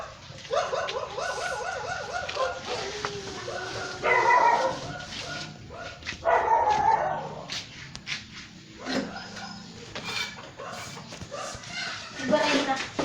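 Dog barking and whimpering in short repeated bursts close by at a house gate, with people talking over and between the yelps.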